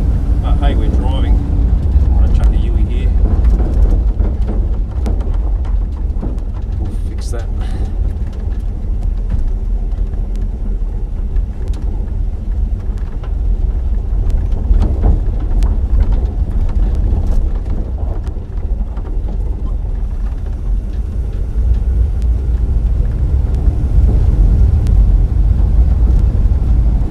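An old car driving again after more than 40 years off the road, its engine rumbling low and steady with wind buffeting the microphone throughout, while a person talks over it now and then.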